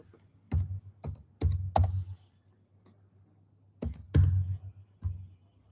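Typing on a computer keyboard, close and clear, with sharp clicky keystrokes in two short bursts separated by a pause, over a faint low hum.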